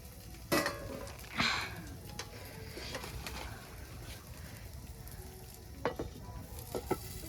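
Pitha batter frying in a pan over a wood-fired stove, with a soft continuous sizzle broken by a few sharp scrapes and metallic clinks of a utensil against the pan.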